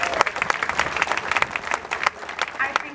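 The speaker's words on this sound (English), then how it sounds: "which, by the way, is worth a huge applause." Audience at a university dinner event breaking into applause, dense overlapping claps from a sizeable crowd, lively and steady for the full span with no talk.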